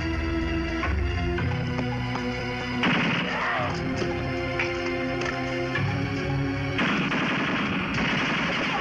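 Loud, sustained automatic gunfire in a Filipino action film about the Cordova true story, with rapid bursts of shots and crashing impacts filling the whole stretch, no talking.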